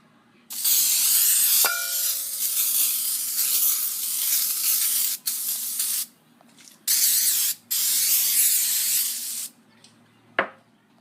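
Cooking spray hisses in long pressurized bursts over a baking dish, several sustained sprays separated by short pauses, close and loud, ending with a faint clink.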